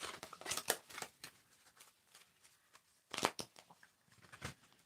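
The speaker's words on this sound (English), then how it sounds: "So they shuffle well. You can shuffle these cards." Homemade oracle cards are shuffled by hand in two quick bursts of riffling, crisp papery flutters near the listener with quiet pauses between, no voices.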